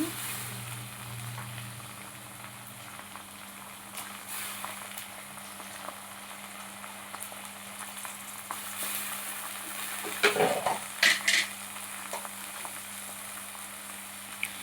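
Cut tomato pieces fry in a pan with onions for a gongura dried prawn curry, giving a steady close sizzle, with a few louder scraping stirs and clatters partway through.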